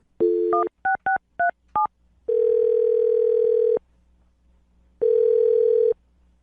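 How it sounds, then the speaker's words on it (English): A phone line's dial tone opens the call, then a quick run of keypad tones as a number is dialed, followed by two long steady ringback tones with a pause between, all clear and close with no talking. "I'm going to dial his phone number right now."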